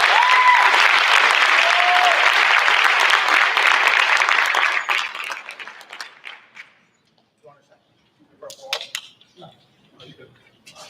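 Loud audience applause at a school board meeting in a middle school, sustained clapping for about five seconds that tapers off into scattered claps and near silence.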